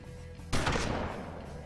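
A single gunshot in the western tactics video game Hard West, one sharp close blast with a short decaying echo over a quiet low ambient hum, no talk.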